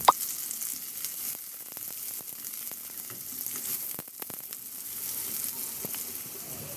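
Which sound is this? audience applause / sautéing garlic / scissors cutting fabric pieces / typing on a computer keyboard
sautéing garlic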